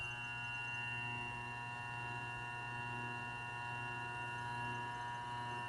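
A Grizzly G0758 milling machine runs with a steady, quiet electric hum and a constant whine, unchanging throughout and heard alone.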